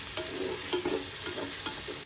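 Tomatoes dropped into hot oil with fried coriander and mint for mutton biryani, a close crackling sizzle broken by several stirring scrapes, brief and loud, with no talk.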